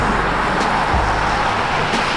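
A 2015 pre-facelift Mercedes CLA45 AMG, stage 2 tuned, driving along forest roads, giving a steady broadband road and engine rumble throughout.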